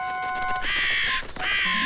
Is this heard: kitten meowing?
no